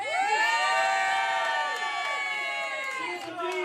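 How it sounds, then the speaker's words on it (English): A crowd of people cheers and whoops loudly together for the Greens team, rising voices sustained for a few seconds. "Let's give a cheer for the Greens."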